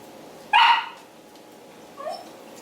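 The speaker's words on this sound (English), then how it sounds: "She's smelling it and she's barking and she wants some." A pet dog gives one loud, close bark in a kitchen while feta is crumbled into a bowl for spanakopita, followed by a softer short yip or whine a moment later.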